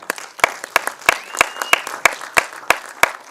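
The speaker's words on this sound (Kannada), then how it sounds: "ಜೋರಾಗಿ ಬರ್ಲಿ ಚಪ್ಪಾಳೆ" Applause from an audience at a film title launch event, with sharp individual claps standing out rhythmically over a steady wash of clapping throughout.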